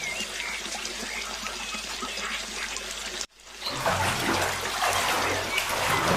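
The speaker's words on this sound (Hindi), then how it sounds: "भूरा कौवा जादूगर तोता के बताए हुए विधि के अनुसार नहाकर आता है।" Water splashing and pouring as a cartoon crow bathes, a continuous washing rush that cuts off briefly and then resumes as a fuller gushing flow, with no talk.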